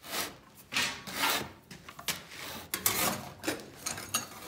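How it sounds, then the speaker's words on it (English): A hand saw cuts straight down through a workpiece held loosely in a vise for a post-apocalyptic kusarigama build, giving repeated close rasping strokes in an uneven rhythm with brief pauses between pushes. "try and take a saw and cut straight down"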